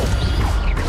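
Protego shield spell cast in the game Hogwarts Legacy: a short, loud, dense burst of grinding, creaking magical impact layered with clashing mechanical textures.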